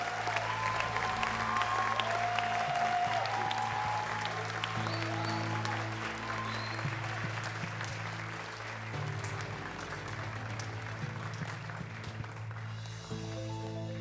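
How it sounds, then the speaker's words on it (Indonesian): A hall audience at a stand-up comedy competition applauds the contestants in a long, dense, steady burst, with background music sounding under the clapping throughout. "saya mohon apresiasinya dalam bentuk tepuk tangan sekali lagi untuk mereka semua"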